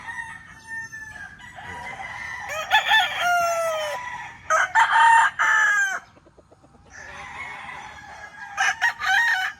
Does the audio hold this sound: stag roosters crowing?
yes